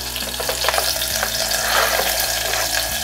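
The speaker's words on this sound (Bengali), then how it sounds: "তো এবার আমি রসুনটা অ্যাড করে দিচ্ছি" Garlic sizzles and fries in a pan of hot oil, giving a continuous crackling hiss up close with faint scraping from stirring and no voices.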